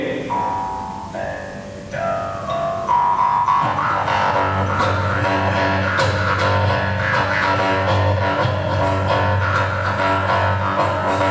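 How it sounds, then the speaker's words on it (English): Russian Jew's harp played up close: a few twangy plucked notes at first, then a continuous buzzing drone with shifting overtones and a rhythmic pulse, loud and without voices. "they call it as Jews Harp"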